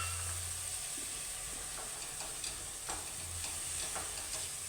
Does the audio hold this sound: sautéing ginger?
yes